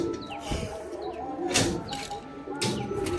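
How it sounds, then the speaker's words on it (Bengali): Young pigeons kept in a room coo softly and repeatedly at close range, with a few rustling bursts that sound like shuffling or flapping wings. "এই যে এই ঘরটার মধ্যে সমস্ত বাচ্চা কাচ্চা পায়রাগুলো রয়েছে, দেখে নিন।"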